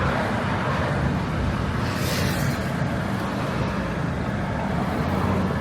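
Road traffic near the Tecate border crossing by Dulzura in the backcountry, a continuous broadband rumble of passing vehicles with one brief swell of hiss midway.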